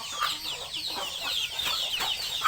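Hens clucking in short, irregular bursts over a steady bright rustle, moderately close, with no talking.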